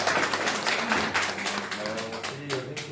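Audience applause at a stage gathering in India honoring senior network leaders, a dense, steady wash of clapping throughout with a voice carrying over it.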